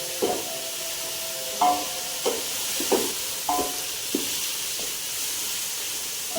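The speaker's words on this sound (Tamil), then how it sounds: "நம்ம இந்த உப்பு போடுறதுனால என்ன செய்யும் தக்காளி இன்னும் நல்லா வதங்கும்" Tomatoes sautéed with rock salt for Dindigul Thalappakatti biryani sizzle softly and steadily in a pan, with a series of sharp metallic spoon scrapes and taps roughly every half second over the close frying hiss.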